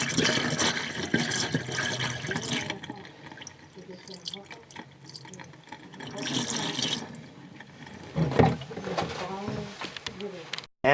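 Liquid pours and gurgles into a kitchen sink drain with trickling and splashing, fairly close, while a person speaks over it at times.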